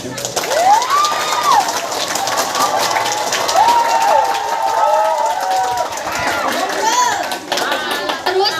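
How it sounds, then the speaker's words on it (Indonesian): A crowd at an Islamic preaching competition for Isra Mi'raj erupts in cheers, with high, rising shouts from young voices and some clapping, loud and steady for about eight seconds. "Kasih tepuk tangannya."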